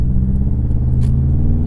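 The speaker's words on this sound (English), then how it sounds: "You can hear a good bit of spool from the turbo." A 2004 Subaru WRX with a turbocharged engine making about 260 horsepower at the wheels drives under load, giving a loud, steady close-up engine drone with a deep rumble throughout.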